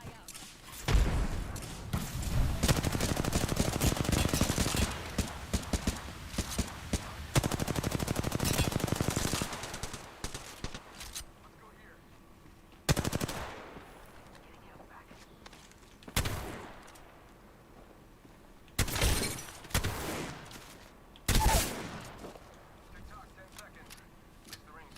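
Rapid bursts of video game gunfire, dense and continuous for the first several seconds, then broken into separate sharp volleys and thuds with quieter gaps between them.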